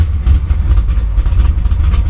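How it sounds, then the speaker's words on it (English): Car engine running at idle just after starting cold, a loud deep rumble with a steady throbbing pulse, close by and alone. "we can go ahead and turn the car on here."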